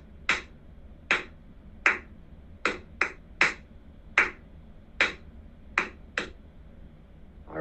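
Hands clap a rhythm exercise in a ukulele class, with about a dozen sharp, close claps in an uneven, syncopated pattern, some paired quickly, against quiet background.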